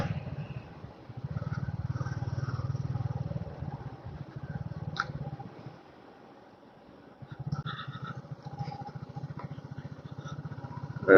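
A motorcycle on a trip from Kolkata to Purulia rides a road lined with trees, its steady engine rumble easing off for a moment midway before picking up again.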